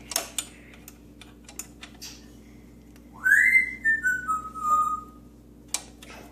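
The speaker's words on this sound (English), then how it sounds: "the bird is very talkative this evening" A clear bird whistle sweeps up then glides down in a few bright notes, with light ticking and clicks scattered around it in a quiet room.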